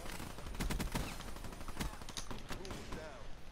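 A gun in a video game match is fired like a submachine gun, loosing quick bursts of rapid shots at a moderate distance, with faint voices underneath.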